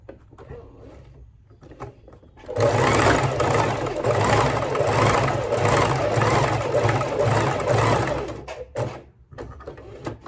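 A sewing machine stitching fabric runs in one loud, continuous whirring burst of about six seconds, close by, with quieter handling clicks before and after.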